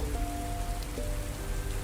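Steady rain falls across a horror role-playing game scene set in a city where it never stops raining, a dense continuous patter with faint tonal drones beneath and no voices.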